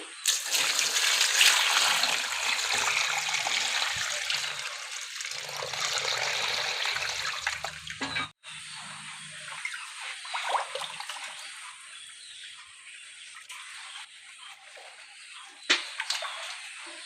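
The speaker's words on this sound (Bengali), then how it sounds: "ধানটা ভেজানোর জন্য এখন জলটা ঢেলে দিচ্ছি" Water pours into a basin of paddy rice grains set out for soaking, a full rushing gush for about eight seconds that drops to a lighter steady trickle and splash, then one brief louder splash.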